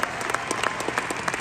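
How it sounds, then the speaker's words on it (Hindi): Audience applause at a company success day event, a brief burst of many hands clapping in quick irregular claps, moderately loud and continuous. "एक बार दोबारा तालियां मारना प्लीज"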